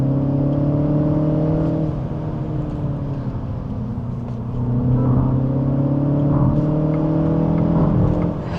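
Mini Cooper Convertible S engine droning steadily while driving, a loud continuous hum with harmonic tones that dip briefly and then rise again as the engine pulls, no talking over it.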